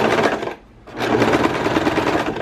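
A sewing machine stitching fabric runs in a fast, dense chatter, stops for a brief moment, then starts again and keeps running close and loud to the end.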